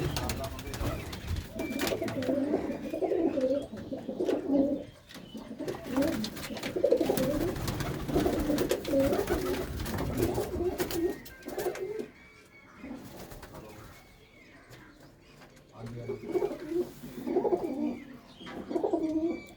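Pigeons kept as a hobby coo in low, repeated throaty phrases nearby, with scattered chirps among the flock, while someone talks over them at times.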